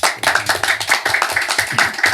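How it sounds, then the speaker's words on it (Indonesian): Several people clap together during a podcast conversation, a brisk burst of hand claps lasting a couple of seconds, close and fairly loud with no talk over it. "luar biasa tepuk tangan dulu buat kita semua"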